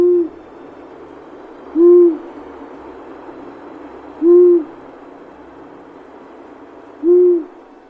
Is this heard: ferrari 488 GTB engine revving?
no